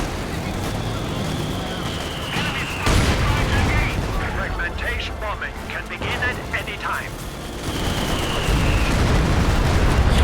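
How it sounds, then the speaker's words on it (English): Stuka dive-bomber attack in Company of Heroes 2, with loud booming explosions and crackling gunfire across the battlefield, a rising whine in the background, and a commentator's voice talking over much of it. "Oh, yeah, massive Stuka."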